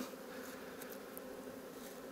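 Honey bees buzz around hive frames in a steady, low, fairly faint drone with no voices.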